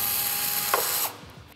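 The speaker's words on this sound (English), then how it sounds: "First thing you're gonna need to do is remove these T40 bolts that come factory installed." A hand ratchet clicks through a quick run of strokes while loosening factory T40 bolts on a Polaris General 1000 side-by-side, close and clear, then stops abruptly.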